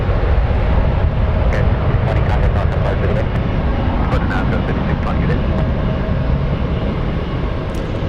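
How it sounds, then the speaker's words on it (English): Airliner jet engines at San Francisco International Airport spool up for departure as a broad, steady roar that stays loud and unbroken, with faint clicks over it. "Took a while to start spooling up for departure."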